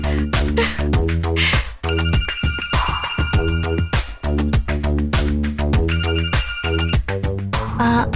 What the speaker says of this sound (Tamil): சரசு, சரசு, நாசமா போன போனு.